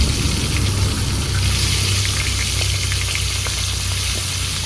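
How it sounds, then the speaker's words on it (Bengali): Pomfret fish sizzling steadily in hot mustard oil, a dense, continuous crackle and hiss close up, with a low hum running underneath throughout. "মাছ ভাজা হয়ে গেছে, তুলে নেবো"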